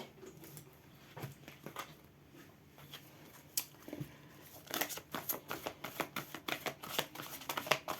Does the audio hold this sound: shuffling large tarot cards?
yes